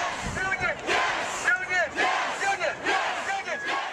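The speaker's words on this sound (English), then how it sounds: "Thousands of people filled the Capitol carrying signs and chanting." A large protest crowd packed inside the Wisconsin Capitol chanting in loud rhythmic unison, the repeated phrases rising and falling in regular pulses that echo around the building.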